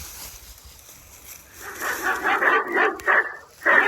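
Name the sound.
dog barking, likely from a motion sensor alarm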